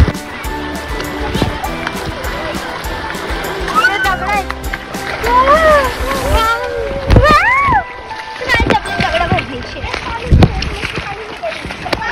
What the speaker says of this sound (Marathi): पाण्याचा आवाज येतोय.